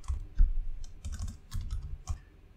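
Computer keyboard keys typed in quick irregular bursts while entering Solidity smart-contract code, close and clicky with short pauses between clusters of keystrokes and no talking over them.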